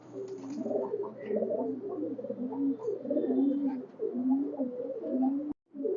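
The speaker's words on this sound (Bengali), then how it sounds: "এটা মহীশূর কবুতর মহীশূরের চোখ এবং ডানার শেপটা দেখেন" Mysore pigeons at a pigeon farm coo close by in repeated, rolling low calls that overlap throughout, with a short silent break near the end and no talk.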